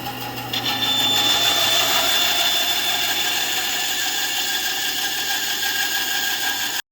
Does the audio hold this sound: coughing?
no